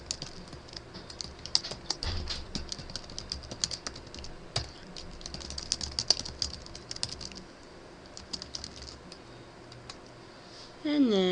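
Rapid, uneven clatter of computer keyboard keys as an email address is typed, the key taps continuous and close for most of the clip, with faint speech in the background.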